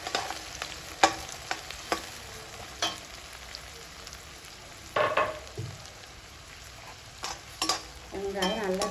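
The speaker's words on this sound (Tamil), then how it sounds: "வெங்காயம் நல்லா தேவைக்காக வதக்கணும்." Onion and garlic sauté in a pan with a soft, steady sizzle, while a spoon scrapes and taps the pan in sharp, scattered strokes that bunch near the middle and end; close by, no talking.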